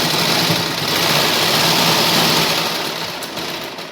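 A sewing machine stitches a lined blouse with a cotton lining, giving a steady, close whirring drone that holds constant throughout and eases slightly near the end, with no talking.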